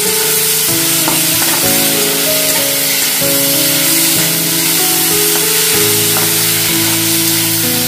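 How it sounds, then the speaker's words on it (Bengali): Soaked moong dal fries in a pan with a loud, continuous sizzle, and steady stirring scrapes sound over a constant hiss. "ডালটা দিয়ে ভালো করে ফ্রাই করে নেব"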